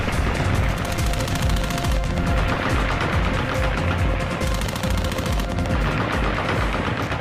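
Taliban celebratory fireworks in Afghanistan after the last American Globemaster departs make a loud, relentless barrage of rapid cracks and popping bursts, dense and overlapping from start to finish, with no talking.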